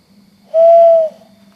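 One drawn-out owl hoot rings out in the nighttime woods, a steady clear tone of roughly half a second that starts and stops cleanly over a soft low background hum.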